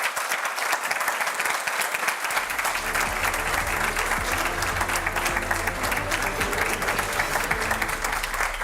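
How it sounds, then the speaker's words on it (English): Loud, continuous audience applause rises after a quiet first two seconds and holds steady to the end, closing a live political summit broadcast. "A round of applause."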